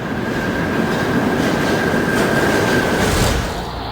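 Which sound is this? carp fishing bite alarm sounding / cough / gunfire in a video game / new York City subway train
new York City subway train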